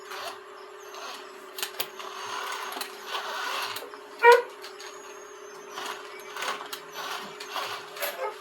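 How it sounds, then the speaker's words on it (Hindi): A John Deere tractor idles with a steady mechanical hum, then a single sharp clunk marks the gear engaging, followed by light rattles and clicks over the running engine. "अभी न्यूट्रल में है, अभी हम इसको गियर डालते हैं"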